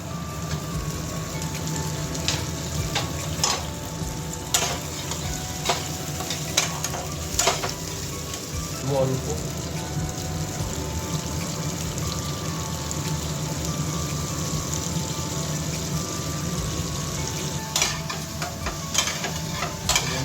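Potatoes sizzle and fry in oil in a pan for chicken curry, a steady close crackle with occasional stirring clinks and scrapes throughout.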